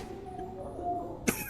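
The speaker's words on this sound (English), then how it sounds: "I get stuck with a persistent cough for a month or two" A single short cough from someone with a lingering flu, sharp and close, breaking through a steady low hum of background tones after a quiet stretch.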